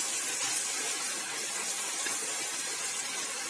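Soaked Gobindobhog rice and pre-fried moong dal frying together in a pan for khichuri, giving a steady, even sizzling hiss throughout with no talking.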